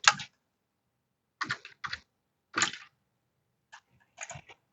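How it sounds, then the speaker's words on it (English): Brief clusters of computer keyboard keystrokes as equations go into a graphing calculator, sparse taps and short bursts separated by quiet gaps, close and fairly soft. "You can just type in the two equations."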